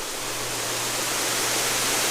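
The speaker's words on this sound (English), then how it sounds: "So here's a little creek they've dammed up down here." Water from a small dammed creek, Gunner Creek in Arkansas, pours in a continuous broadband rush, steady and fairly close with no other sounds.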